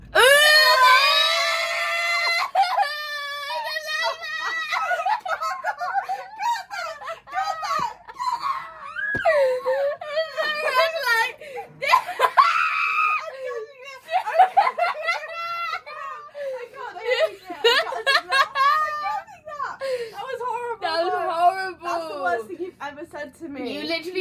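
Long high-pitched screaming and wailing from several voices, loud and close, nearly continuous for the whole stretch, with laughter and speech mixed in.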